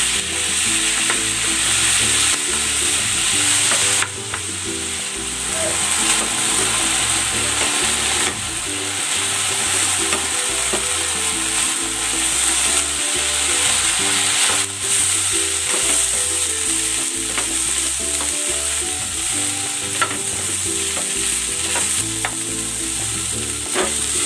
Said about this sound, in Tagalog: I-stir fry ko muna itong chicken.